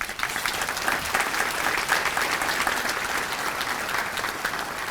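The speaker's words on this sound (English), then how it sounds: "And a round of applause to those." A large crowd of around 460 guests at an annual meeting and membership banquet claps for the sponsors, sustained, even applause lasting several seconds with no one speaking.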